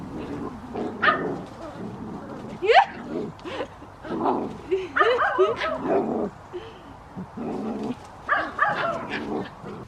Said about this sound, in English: check up on your dogs in the garden.